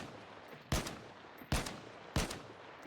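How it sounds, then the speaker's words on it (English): Three FAL rifle shots in the video game DayZ, each a sharp loud crack with a decaying tail, spaced evenly about three-quarters of a second apart. "I'm just going to go ahead and shoot an FAL"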